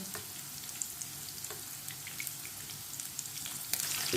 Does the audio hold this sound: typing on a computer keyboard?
no